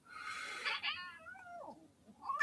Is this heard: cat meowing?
yes